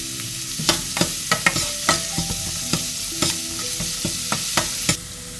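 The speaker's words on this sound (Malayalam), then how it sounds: "സവോള ഇട്ട് കഴിഞ്ഞതിന് ശേഷം ഒരു 2 പിഞ്ച് ഉപ്പിട്ട് കൊടുത്താൽ പെട്ടെന്ന് വഴണ്ട് വരും." Sliced onions with a pinch of salt sautéed in a pan for a Malabar fish curry, rhythmic spatula knocks and scrapes against the pan over a steady sizzle, close and fairly loud.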